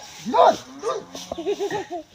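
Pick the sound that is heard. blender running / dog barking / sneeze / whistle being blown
dog barking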